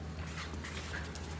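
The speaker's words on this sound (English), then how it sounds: "We got a new dog in the shop." A dog in a shop gives soft, high whimpers against a busy room-noise background, fairly close and continuous for a brief moment.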